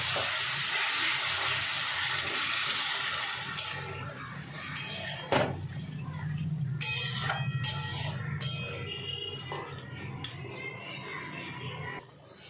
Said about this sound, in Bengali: আমি এবার এর মধ্যে জল দিয়ে দেবো।